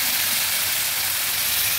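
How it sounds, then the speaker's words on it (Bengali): Water poured onto frying ground spices (cumin, coriander, chili and turmeric powder) in a pan, giving a steady, loud, hissing sizzle throughout with no talk. "হালকা একটু জল দিচ্ছি।"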